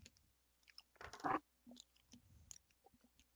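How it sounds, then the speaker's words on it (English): A person chews food close to the microphone, with soft wet crunching bites and a louder burst of chewing around the middle, otherwise quiet. "can you hear me chewing?"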